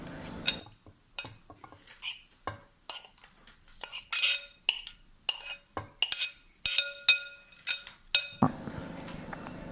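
A spoon clinks and scrapes against a bowl while coconut cake batter is mixed, giving a series of sharp, close, irregular taps and knocks with short pauses between strokes.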